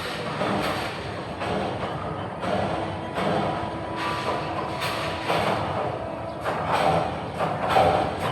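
A Narayanganj-to-Dhaka train approaching at speed, a steady loud rumble of wheels with rhythmic clacks and thumps across the whole stretch, swelling slightly toward the end.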